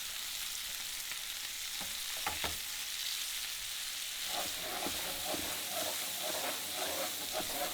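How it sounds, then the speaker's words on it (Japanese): Steady, loud sizzle of a beef bavette steak frying in a pan with foaming butter, the hiss continuous and close, with light stirring and pan-shaking clicks partway through. "揺すってバターを全体的になじませていきます。 この時バターが焦げずずっとムース状になっている状態を保ちながら仕上げていきます。"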